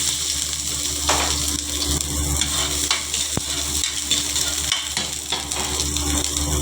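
Ginger and onion frying in a pan for a yellow chicken curry, a continuous close sizzle broken by occasional stirring scrapes and a couple of sharp clinks, with no voices.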